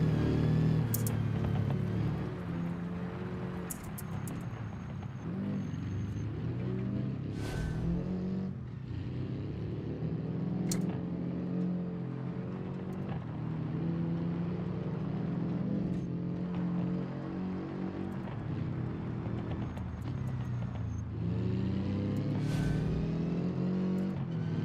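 In the BeamNG driving simulator, a car engine drones steadily at full throttle for a long stretch, with shifting pitch and brief sharp spikes from bumps or impacts.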